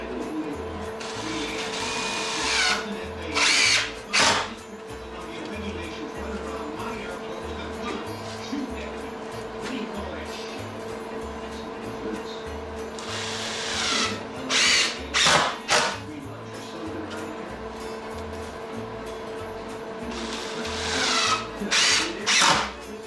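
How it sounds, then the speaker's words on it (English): A power drill drives screws into a countertop in repeated short bursts of high whirring, separated by quieter stretches of steady background hum. "I'm only gonna put 4 screws in this because it's just gotta hold it in place"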